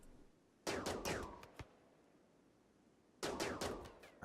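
Gunfire in the RimWorld video game, two short bursts of rapid sharp shots with a single crack between them, loud against a quiet background.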